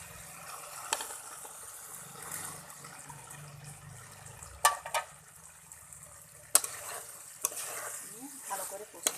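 Soybean chunks and potatoes stirred and fried in a cooked-down spice paste, a steady low sizzle with scraping spoon knocks and a few sharp clatters against the pan.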